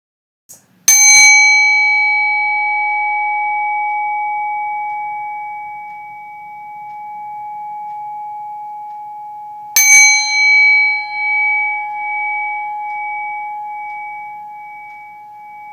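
A single bell or singing-bowl-style chime struck twice, each strike ringing out with a long, clear, sustained tone that slowly fades, alone in a quiet room.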